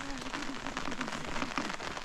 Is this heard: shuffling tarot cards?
no